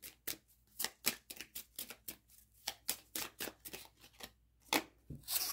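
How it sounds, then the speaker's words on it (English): Oracle cards being shuffled by hand in a quick, steady run of crisp riffling bursts, close and fairly loud, with no talking. "let me get some of these cards"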